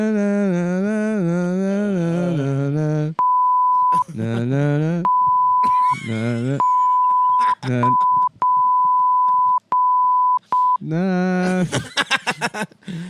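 Censor beep, a steady high tone cutting in repeatedly in short bursts of varying length between sung and spoken phrases, loud and clean over a podcast conversation.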